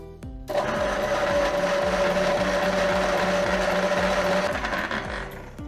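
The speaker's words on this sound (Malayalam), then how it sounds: "നമുക്കിത് അടച്ചിട്ട് മിക്സിക്ക് നന്നായിട്ടൊന്ന് ബ്ലെൻഡ് ചെയ്തെടുക്കണം കേട്ടോ" A mixer grinder whirs into life, blending watermelon with lemon and cardamom, a loud, close, steady motor drone with a slight pulsing churn that runs for several seconds before easing off.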